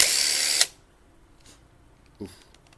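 A short loud burst of an impact driver running, then it stops abruptly, followed by quiet background and a faint clunk.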